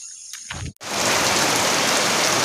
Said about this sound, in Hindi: अभी जस्ट पानी गिरना शुरू हुआ है।